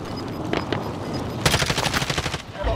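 Gunfire in Call of Duty: Modern Warfare multiplayer: a few scattered shots, then a fast, loud burst of automatic fire with rapid repeated cracks.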